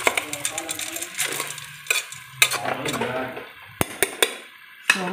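A spoon stirs soup in a cooking pot, clinking and scraping against the metal in quick irregular strokes with a few sharp knocks, over a faint sizzle.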